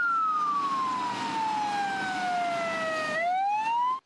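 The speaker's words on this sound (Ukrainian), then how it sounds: "трирічна Кіра їде на пожежній машині." Fire truck siren carrying a three-year-old girl to the New Year tree in Enerhodar, a loud, steady wail that slowly falls in pitch, then rises again near the end, over rumbling road noise with no talk.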